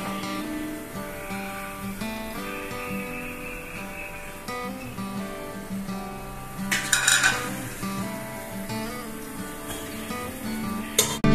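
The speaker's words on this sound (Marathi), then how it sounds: "आता ह्याच्यामध्ये आपण कांदा टाकूया आणि कांदा असा लालसर भाजून घेऊया तेलामध्ये।" Chopped onion frying in oil in a pan while cooking pulao rice, with a steady sizzle under clinks of a spoon or utensil against the pan and a few louder metallic knocks.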